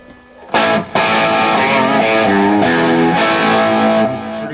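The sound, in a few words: electric guitar played with distortion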